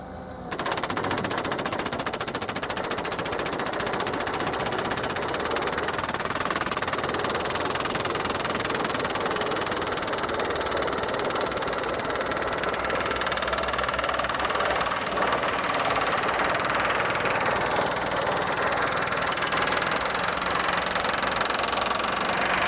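A Geoprobe MC5 direct push rig hammers a soil sample tube into the ground through the 5 to 10 foot interval, making a loud, rapid, continuous percussive rattle that holds steady with no pauses.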